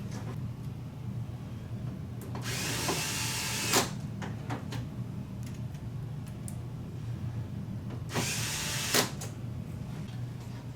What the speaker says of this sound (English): So we'll put the screws back in the bottom.